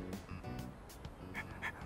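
Koromaru, the dog in the Persona 3 Reload video game, gives a short run of soft panting and whimpering yips, close and fairly quiet.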